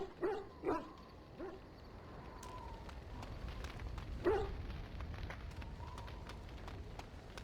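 A dog barks in the fantasy role-playing game Dragon Age Origins: two quick barks at the start, a single louder bark in the middle, and a faint hum between them.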